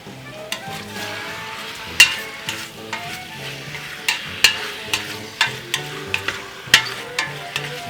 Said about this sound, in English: as you can hear it already sizzling